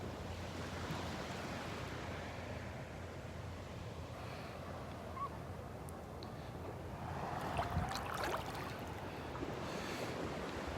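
Small ocean waves lapping at Delnor-Wiggins beach on a cloudy morning, a steady wash of gentle surf with light wind noise, continuous and fairly close, no talking.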